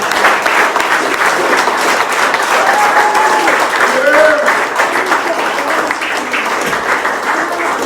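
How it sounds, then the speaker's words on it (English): A crowd applauds steadily after a panel discussion at an August 2024 community event, a dense, even wash of clapping from a sizable room that holds constant for the whole stretch, with a faint voice or two beneath it. "Round of applause for the speakers."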